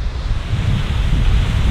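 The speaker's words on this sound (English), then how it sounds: "go to bed with the sound of the water droplets of the waterfall" Water rushes in a steady, full wash from a waterfall on the Isle of Skye, heard close and continuous without a break. Wind noise mixes in, and no one speaks.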